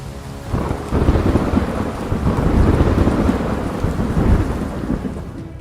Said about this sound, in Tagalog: May ilang lugar pa nga na hindi na huminto sa pagkulog at walang humpay sa pag-ulan.